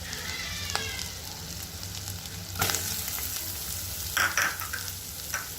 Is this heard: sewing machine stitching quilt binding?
no